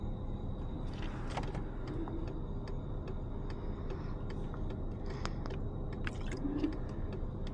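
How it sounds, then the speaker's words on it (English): A car reversing back out, heard from inside another car while driving around the Baltic Sea: a steady low rumble of engine and road noise with faint ticks and clicks, and no talking. "now it's reversing back out again."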